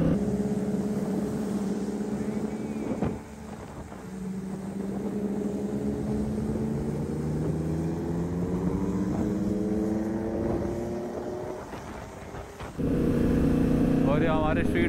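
Yamaha R1 motorcycle cruising on a highway at night without a working headlight: a steady engine drone with shifting pitch under constant wind roar, a brief dip around a gear change, then the engine pulls on.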